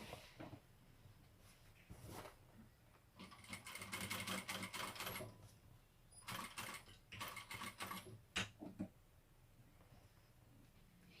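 A sewing machine stitches a fabric strap on a Barbie doll organizer in short bursts of quick, rattling mechanical clatter, with pauses and small clicks between runs, quiet and close.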